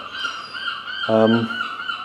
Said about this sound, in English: the birds will never shut up